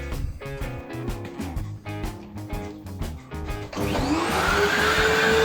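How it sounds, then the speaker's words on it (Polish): A vacuum cleaner pulls lint from the heat exchanger filter of a BEKO DF7424RTDCX dryer, a steady loud motor drone with rattling clatter as debris is sucked up, then the pitch rises into a sustained whine as the nozzle seals. "Tutaj można odkurzyć to odkurzaczem"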